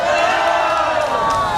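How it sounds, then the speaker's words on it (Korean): Crowd at a street rally in Korea raising a loud, sustained cheer and shouts of welcome, dense voices filling the whole moment without a break. "힘찬 함성으로 환영해 주시기 바랍니다"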